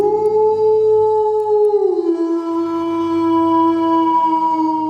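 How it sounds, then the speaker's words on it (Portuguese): A howl attributed to a werewolf: one long, loud, sustained tonal cry lasting several seconds, its pitch dipping and settling midway, heard alone with no talk. "deu um uivo tão forte e intenso que me deu calafrios"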